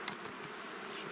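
Honeybees buzz steadily at an opened hive during a frame inspection, a dense, continuous hum close by with no talking.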